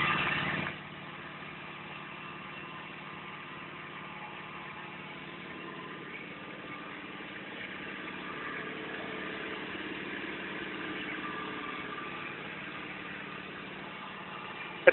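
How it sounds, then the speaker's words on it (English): John Deere X585 lawn tractor engine running steadily near half throttle, a close, even hum that holds throughout with a slight swell toward the end. "It's sitting in close to half throttle right now. I'm just going to run it a second before I really open it up."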